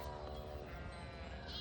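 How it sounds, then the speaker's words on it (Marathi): Herd of goats belonging to the Balumama palkhi procession, bleating amid a dense, continuous background of crowd and ambient noise at a religious gathering in Malegaon, Bhor. "मामाच्या बकऱ्या आहे।"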